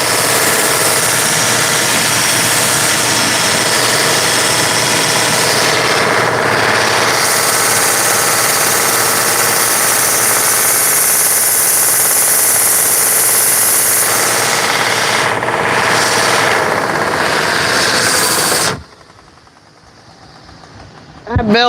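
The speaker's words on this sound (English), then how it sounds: "What if I can cut it off on the grinder?" A belt grinder cuts through a piece of metal stock in a forging shop with a loud, continuous harsh roar that holds steady for nearly nineteen seconds before abruptly stopping.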